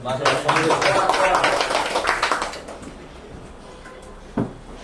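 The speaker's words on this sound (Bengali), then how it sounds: "ঠিক আছে সবাইটা হাততালি দেন" A classroom group at a dead-phone repair lesson bursts into dense, lively clapping for about three seconds before it thins out, with talk running underneath.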